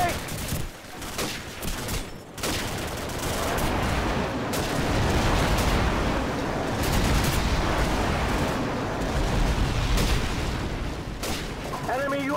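Airstrike and gunfire in Call of Duty 4 multiplayer on the Crossfire map: heavy booming blasts and rattling shots layered into a loud, continuous barrage, with game voice announcements mixed in.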